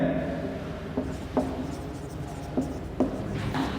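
Chalk or marker writing on a board during a maths lesson, several short taps and strokes spaced a second or so apart over a faint room hum, with no clear talk.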